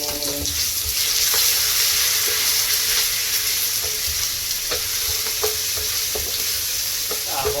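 Onion sizzling steadily in a hot pan for chilli crab with squid, a continuous close frying hiss broken by occasional light utensil taps and stirs, no talking.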